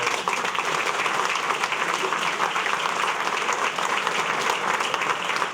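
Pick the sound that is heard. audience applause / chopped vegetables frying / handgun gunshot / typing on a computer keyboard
audience applause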